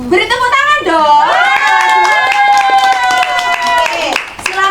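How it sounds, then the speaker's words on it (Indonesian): Classroom clapping for a presenting student group, heard under loud overlapping voices of children shouting and cheering. "Beri tepuk tangan dong."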